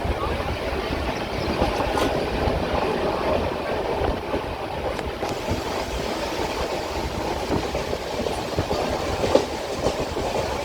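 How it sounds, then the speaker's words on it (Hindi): A train runs along the Meerut–New Delhi RRTS line near Guldhar, giving a steady, loud rumble with faint clickety-clack from the wheels that continues throughout. "इस वक्त हमारी ट्रेन गुलधर से गुज़र रही है"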